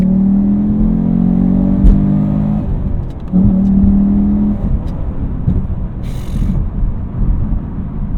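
A 2019 Chevrolet Camaro SS 1LE V8 engine pulls under full throttle, a loud close roar climbing in pitch, dipping briefly at a shift, then rising again with rumbling drive noise.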